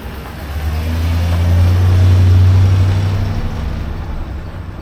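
A vehicle engine rumbles steadily at close range, swelling in loudness and then gradually fading as it pulls away.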